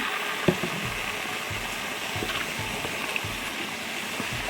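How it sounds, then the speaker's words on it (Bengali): Hot water poured into a pot of meatball biryani gives a steady, soft rushing stream with a faint bubbling hiss and a small splash early on. "তারপর গরম পানিটা দিয়ে দিয়েছি"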